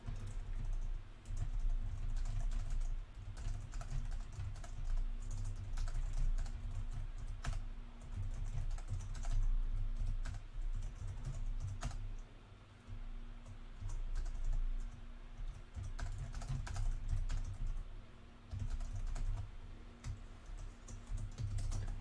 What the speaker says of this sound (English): It is not exciting to watch me type.